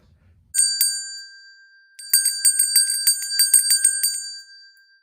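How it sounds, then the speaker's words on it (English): A bright metallic bell dings once, rings out, then rings again in a quick rapid series of tinkling strikes, clear and close with no other sound. "The bell invites me."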